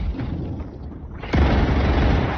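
Gunfire in the video game StarRupture, a loud booming shot that erupts partway through after a quieter stretch, its echo sustaining to the end.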